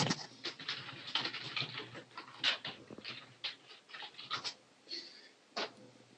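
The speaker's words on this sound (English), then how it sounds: "I can hear you typing." Keyboard typing picked up over a live-stream call: quick, irregular clicks that come in short bursts and pauses, faint and close, with no talking.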